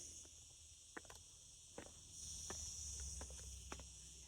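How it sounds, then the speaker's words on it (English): Cicadas drone in a steady, high buzz around a quiet country house with a pool, joined by a few soft scattered clicks and taps nearby. "You can hear the insects, the cicadas."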